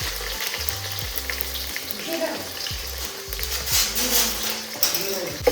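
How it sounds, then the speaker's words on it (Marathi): Garlic frying in hot oil along with mustard seeds and cumin for a traditional Maharashtrian shengulya, a steady crackling sizzle throughout, with scraping stirs and low kitchen hum beneath. "गॅस थोडासा कमी करूया आणि ह्याच्यामध्ये घालूया भरपूर सारा लसूण"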